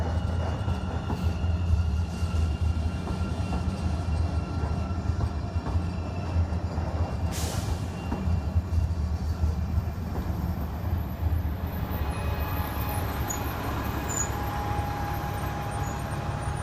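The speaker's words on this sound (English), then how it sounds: "there's a Green Line train coming right now." A Portland Green Line light-rail train rolls past with a continuous loud rumble and rattling wheel noise, a brief sharp hiss midway, then fades slightly as it moves on.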